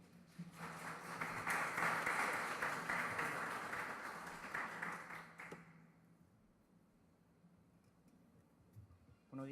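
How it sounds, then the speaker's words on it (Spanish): Audience at a judicial plenary session in Peru welcomes a speaker with loud applause that swells, holds for several seconds, then drops away to quiet room tone. "Lo recibimos con un fuerte aplauso."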